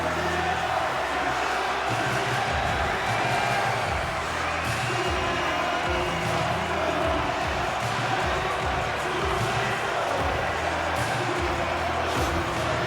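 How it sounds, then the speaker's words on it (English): A Carolina Hurricanes home crowd in the NHL 26 video game, during a simulated Stanley Cup Final game against the Golden Knights, roars steadily after a goal, a dense and constant wall of cheering and whooping. "The Hurricanes crowd has really come to life here early in this first period after that goal"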